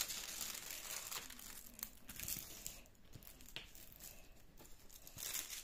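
Crinkling plastic zip bag handled during the unboxing of a diamond painting kit, with close, irregular rustles and crackles and a few sharper crumpling bursts throughout.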